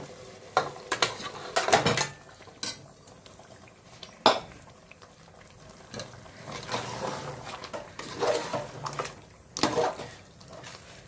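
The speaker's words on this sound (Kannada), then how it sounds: "ಮ್ಯಾರಿನೇಟ್ ಮಾಡಿ ಇಟ್ಕೊಂಡಿದ್ದಲ್ಲ ಚಿಕನ್ ಹಾಕೋಣ ಈಗ" Marinated chicken for a red chilli biryani goes into a pan and is stirred, with clattering utensil scrapes and knocks over a faint sizzle, close and without talk.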